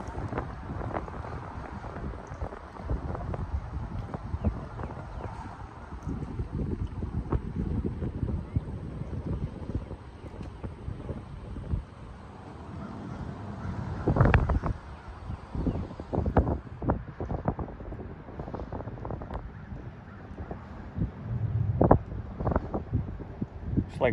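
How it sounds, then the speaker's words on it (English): Wind gusting across a river in Florida, heard from a small fishing boat, a steady rushing roar buffeting the microphone with rattling and knocking over it, and a voice speaks briefly. "Wind's kicking up."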